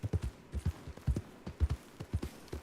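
Horse hooves clip-clopping in the Red Dead video game, a steady rhythmic pattern of paired hoof strikes at a walking pace, close and clear with no talk over it.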